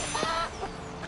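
Chickens in a PS4 video game give a couple of short clucks, brief and close over a steady background hum.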